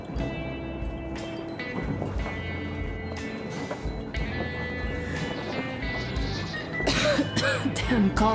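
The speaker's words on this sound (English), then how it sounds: "Coughing." A character in the video game Metro Exodus coughs and clears his throat several times in rough bursts, heard over the rumble of a moving train and ambient game sounds.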